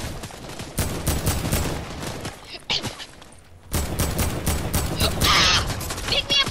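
Rapid gunfire in Fortnite, dense crackling bursts of shots with mechanical clatter, broken by a brief lull, close and fairly loud, alongside a few voice sounds.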